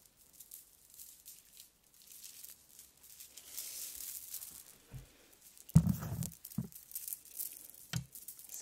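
Crinkly Christmas tinsel, a long decorative garland, rustles softly and faintly while being handled, building to a few louder crackling crumples and handling bumps near the end, with no voices.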